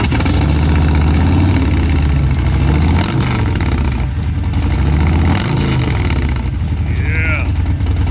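A Harley superbike engine fires up and runs loud and close, with a deep rumbling idle and repeated revs rising and falling. A voice is faintly audible in the background.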